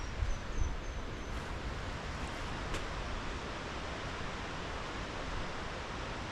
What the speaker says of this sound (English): You can hear the river in the background there.